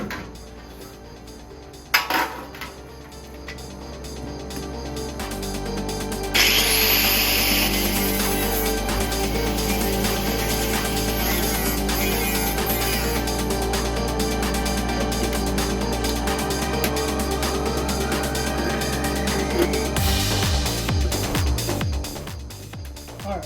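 A cutting wheel slices away sill metal on a Triumph Spitfire during restoration, a loud continuous grinding whine with shifting pitch that runs nearly the whole time, with a sharp knock near the start.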